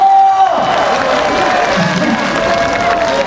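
A festival concert audience at the Jinju agricultural expo claps and cheers together, a dense, loud wash of applause with scattered shouts that holds steady throughout.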